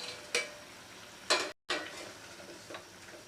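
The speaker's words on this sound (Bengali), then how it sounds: "দেখুন ঝোলটা ফুটতে শুরু করেছে" A steady, close-up bubbling hiss of curry gravy with cabbage dhoka and a green chilli simmering in a pan, broken by a few soft clicks and a brief dropout.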